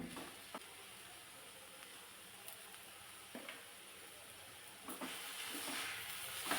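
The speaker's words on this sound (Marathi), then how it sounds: "आता याच कढईमध्ये मेथीची भाजी घातली आणि मंदाचेवरती भाजीसुद्धा आपणाला चांगली परतून घ्यायची आहे" Fenugreek leaves sauté in a kadhai over medium heat with a soft, steady sizzle and hiss, broken by several brief clinks and scrapes of stirring.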